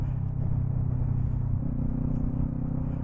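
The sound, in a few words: Kawasaki Ninja 400 motorcycle riding in traffic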